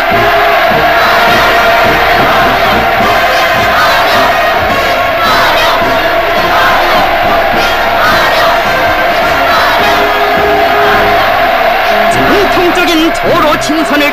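A vast crowd in Pyongyang roars and cheers in waves during Putin's 2000 visit to North Korea, loud and unbroken from start to finish, with massed chanting voices rising and falling throughout.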